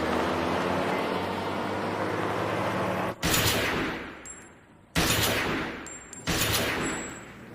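Gunfire at a firing range: after a steady roar of background noise, three loud, sharp shots crack out close by at uneven intervals, each followed by a long decaying echo and a high metallic ring, with no talking.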